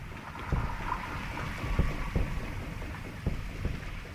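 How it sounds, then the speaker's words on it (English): Rapid faint ticking orca echolocation clicks repeat through a steady low rumble of boat engine and water noise, irregularly spaced and fairly distant. "Part of what may sound like a boat to you is actually echolocation."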